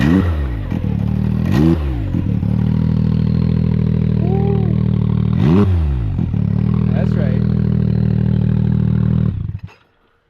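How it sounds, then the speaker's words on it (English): A loud, close Can-Am X3 UTV engine rumbles and revs through a throaty 3-inch side-exit exhaust, with repeated surges rising and falling, a brief voice under it, then cuts off. "Got the old 3-inch side exit exhaust on her."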